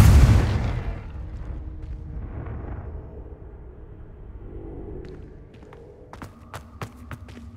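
A Confringo explosion spell in the video game Hogwarts Legacy, a loud booming blast at the start that decays into a low rumble, followed later by a few sharp crackling pops.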